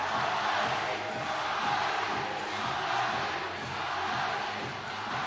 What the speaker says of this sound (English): Kulan trying to make this crowd erupt.